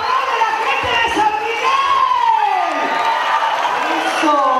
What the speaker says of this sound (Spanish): ¡Pero aplauda más fuerte, que se haga más duro el aplauso!